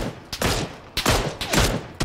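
Gunfire in PUBG on Xbox One: sharp, loud volleys of shots crack in several bursts about half a second apart, each trailing a short echo, with no voices.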